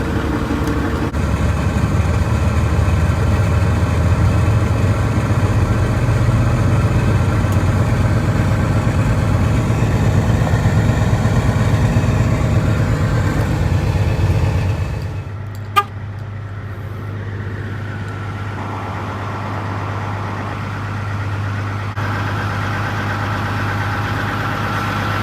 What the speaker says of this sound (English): Bumping up the idle is not only better on the engine, but it'll warm up a little faster too.